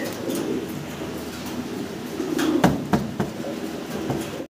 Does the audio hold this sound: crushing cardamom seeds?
no